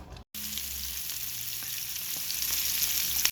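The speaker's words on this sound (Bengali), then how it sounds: "এখন প্রথমে ডিমগুলো ভেজে ভুনা করে নেব" Eggs frying in a pan for a Bengali home meal, a steady close sizzle with soft stirring scrapes, continuous after a brief silent start.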